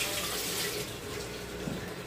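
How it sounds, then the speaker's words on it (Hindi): Water runs from a household tap in a steady close splashing stream, with no pauses, as if filling a sink. "पानी कम कर दो ना, आवाज़ आ रही है।"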